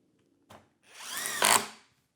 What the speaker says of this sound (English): We're gonna drive these Spax fasteners.